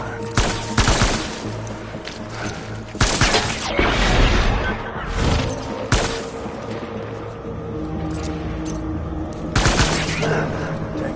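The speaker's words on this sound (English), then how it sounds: "Taking fire." Gunfire in Death Stranding: repeated loud bursts of automatic shots in several clusters across the clip, with booming impacts and background game noise.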